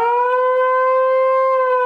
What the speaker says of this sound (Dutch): Daar komt de sirene.